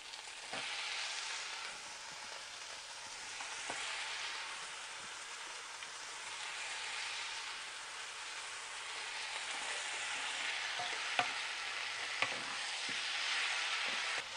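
Garlic and okra sautéing in hot oil for a Tamil okra thokku, giving a steady, close sizzle throughout, with a few light clicks from stirring.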